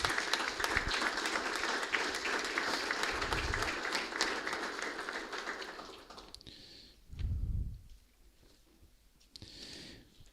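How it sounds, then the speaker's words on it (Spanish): An audience in a municipal council chamber, at the opening of its ordinary sessions, gives education officials a full round of applause that lasts about six seconds and then fades into quieter room noise with a few scattered thumps. "un aplauso para ellos"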